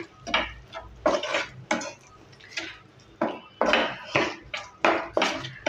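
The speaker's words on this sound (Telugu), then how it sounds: "ఈ ఉప్పు పసుపు వేసిన తర్వాత మళ్ళీ ఒకసారి బాగా కలుపుకోవాలి." Leftover rice mixed with salt and turmeric in a pan is stirred in a run of about a dozen rhythmic scraping strokes, each a distinct, fairly close scrape of a spoon against the pan, with no talking.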